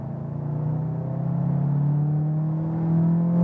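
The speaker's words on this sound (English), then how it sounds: "that's it, and actually quite nice engine sound." A Volkswagen Arteon Shooting Brake with a 280 hp engine accelerating between 60 and 100 while driving: a steady, droning engine hum that slowly rises in pitch and grows a little louder, heard from inside the car without talk.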